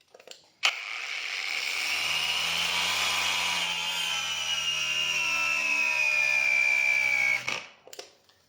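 A Yuansen YSJM-A2 cordless angle grinder whines steadily for several seconds while grinding, with a high, slowly falling pitch as it bogs under load, then cuts off abruptly.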